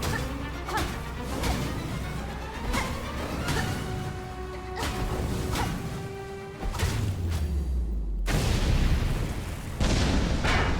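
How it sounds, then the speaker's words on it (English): An explosion erupts during a boss fight in Hollow Knight: Silksong, rumbling booms and crashing impacts sounding loud amid continuous game music and effects, with a sudden heavy burst near the end. "I don't know if this explosion does damage, but I recommend staying away from it."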